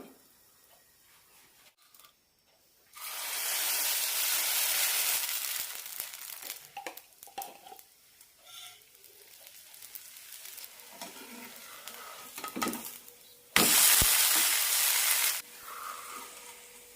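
Moong bean dosa roasting on a hot pan gives loud bursts of sizzling, with a strong stretch early on and another near the end. Quieter crackle and light scraping fill the gaps, and no one speaks.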